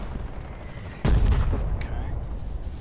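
A 120mm artillery shell fires or lands in the war video game Foxhole, one loud booming blast with a rumbling tail over steady background noise.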